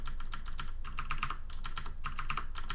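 Fast typing on a computer keyboard, dash and tab presses among bursts of close, crisp key clicks in rapid runs with short pauses between them.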